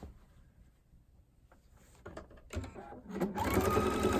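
A sewing machine stitches quilt binding, pivots and then runs a fast steady stitch. Scattered clicks and handling come first, then the motor hum rises and holds close and loud to the end.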